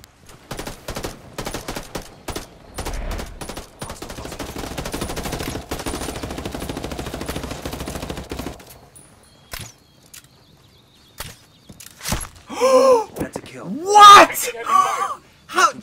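Gunfire in the video game Ghost Recon Wildlands, a dense burst of rapid automatic shots for several seconds, then a quiet gap before scattered louder shots and voices talking near the end.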